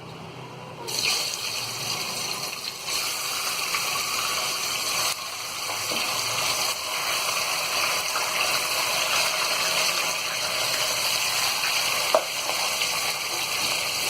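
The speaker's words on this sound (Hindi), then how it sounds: "प्याज निकालने के बाद में अब इसी बचे तेल में हम ये मटन को डाल देंगे" Mutton frying in leftover oil after onions were taken out, for Hyderabadi mutton biryani: a loud, steady hiss and sizzle that bursts in at once as the meat drops into the pan, then continues with faint stirring clatter.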